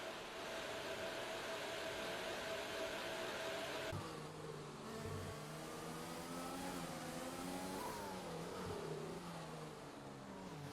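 A racing car engine from the F1 2020 game, at the Mexican Grand Prix, whines steadily, then its pitch drops and rises again through gear changes. The sound is continuous and fairly loud, with no talk.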